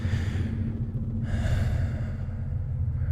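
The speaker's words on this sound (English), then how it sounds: "the only sound was my own breathing, ragged and strained" Ragged, strained breathing up close, a few heavy gasping breaths and sighs over a low steady background rumble.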